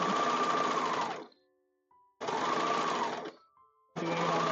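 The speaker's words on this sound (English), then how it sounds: "Doing it on my sewing machine for years and years." Home sewing machine stitching a raglan top in three steady whirring bursts, each about a second long and separated by brief pauses, loud and close with no talking.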